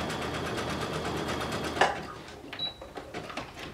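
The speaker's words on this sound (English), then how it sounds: "I just sew one more time like that" A sewing machine stitches across a flat elastic waistband on a stretch pencil skirt, a fast close rattle that stops midway, followed by faint handling clicks.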